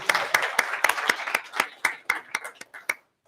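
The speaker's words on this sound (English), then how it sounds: "Give yourself a round of applause." A small group of university students applauding at the end of the last class day, with distinct separate claps at an irregular beat that thin out and stop, close and moderately loud.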